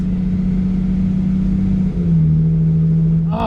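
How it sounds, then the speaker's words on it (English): A V6 car engine revs hard at a drag strip, a loud, steady drone that climbs in pitch and then settles to a lower held tone as the car shifts. "Oh man, the car is running so good."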